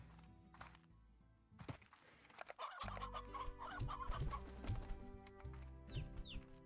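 Chickens cluck in the video game Slime Rancher, with soft clucks and a brief warbling call over a droning, layered game soundtrack, faint and continuous.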